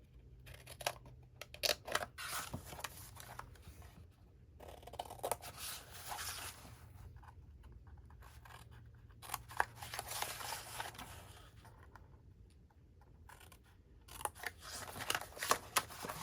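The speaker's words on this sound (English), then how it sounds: "we're going to cut in on each of these corners where the two lines crossed each other" Scissors cutting into the corners of a paper wrap for a handmade gift-box mini album: close, quiet snips in irregular bursts with paper rustling and handling between cuts.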